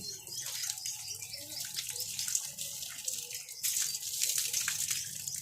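Water pours and splashes steadily close by as a child is bathed, a bright continuous rushing with slight surges, and a voice speaks briefly underneath.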